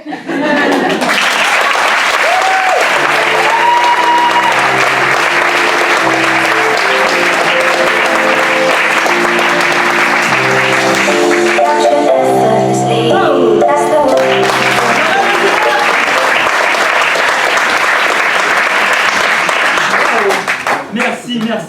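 Comedy show audience applauding to welcome a comedian, a long sustained wash of clapping lasting about twenty seconds, loud and dense, with voices and laughter mixed underneath.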